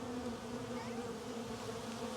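Honey bees swarm around a hive box on a homestead, a steady, dense buzzing drone that holds close and even throughout with no voices.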